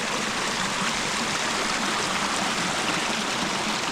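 A river flows through a village as a loud, steady rush of water, close by and constant, with no talking.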